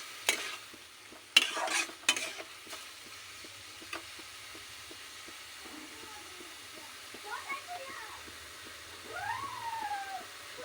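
Potatoes go into a pan with cooking banana flower, followed by soft frying sizzle and scraping stirs, a few louder clatters at first and then steady quiet cooking.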